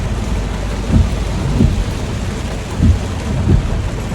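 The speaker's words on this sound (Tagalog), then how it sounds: "Kita nyo naman yung ulan sa ano." Steady heavy rain hisses throughout while low thunder rumbles roll in several times, each swelling briefly before fading back into the downpour.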